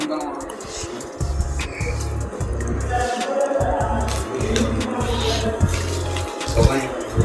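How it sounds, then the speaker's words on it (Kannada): A pot being washed under running tap water, with a steady stream and splashing in short bursts, while people talk over the water. "ಬೋಗಣಿ ತೊಳಿಬೇಕು ಅದು"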